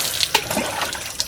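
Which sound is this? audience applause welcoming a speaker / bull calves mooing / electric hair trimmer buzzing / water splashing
water splashing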